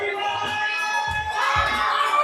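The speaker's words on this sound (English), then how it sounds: "And of course, the home crowd goes crazy." Home crowd at a bouldering competition cheering and shouting for the final climber, a sustained wash of voices with two louder low swells.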